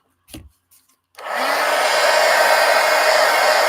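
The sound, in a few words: hair dryer drying paint in an art journal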